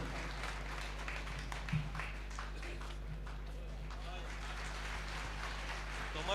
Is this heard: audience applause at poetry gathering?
yes